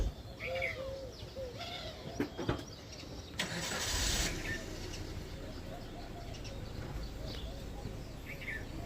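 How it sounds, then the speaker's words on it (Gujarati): A car in a village starts with a brief roaring burst, then its engine runs steadily and pulls away, while pigeons coo nearby and faint voices sound in the background. "ગાડી હવે બસ નીકળે છે"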